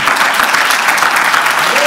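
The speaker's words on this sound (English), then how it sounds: "they're clapping because they agree with that prayer" A church congregation breaks into loud, sustained clapping after a prayer, dense applause filling the space from start to finish with a faint voice near the end.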